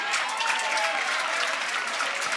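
Steady applause at a pickleball match, a dense, even patter of many hands clapping from a crowd, moderately loud and unbroken.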